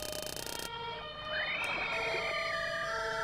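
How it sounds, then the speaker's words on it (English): A synthesized ambulance siren in a fishing video game rises and holds a steady wailing tone, loud and continuous over game background music. "Another ambulance!"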